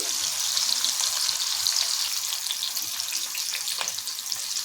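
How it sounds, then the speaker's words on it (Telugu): Thinly sliced onions fry in plenty of hot oil for chicken fry, giving a steady, dense sizzle with a few brief crackles throughout and no talking. "సన్నగా కట్ చేసి పెట్టుకున్న ఉల్లిపాయ ముక్కలు వేసానండి"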